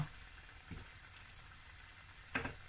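Breaded tofu fries fry in hot oil, giving a faint, steady sizzle and bubbling with a couple of brief soft pops.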